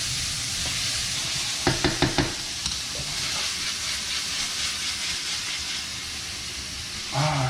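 Vegetables sweating in a pan for tilapia with tomato sauce, stirred with a utensil. A steady close sizzle and hiss runs throughout, with a burst of quick scraping stirs near the start and a louder stir at the end.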